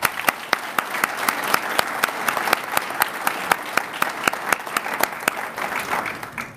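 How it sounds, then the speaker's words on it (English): Audience applause at a sheriff's office detention academy graduation ceremony, a steady round of many hands clapping with sharp individual claps standing out, sustained for several seconds. "let's give them another round of applause"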